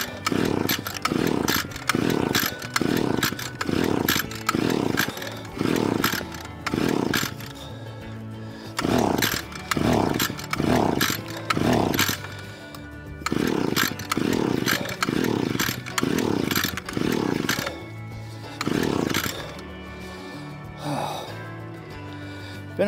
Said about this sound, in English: Let me fire this motor up now.